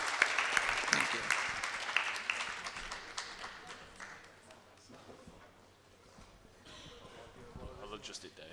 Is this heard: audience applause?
yes